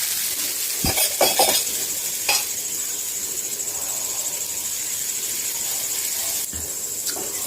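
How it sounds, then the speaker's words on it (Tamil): Dosa batter made from samai (little millet) hits a hot stone griddle with a few clattering knocks, then settles into a steady, close sizzling hiss. "இப்போ கல் நல்லா காஞ்சிருச்சு இப்போ நம்ம தோசை ஊற்றிக்கலாம்"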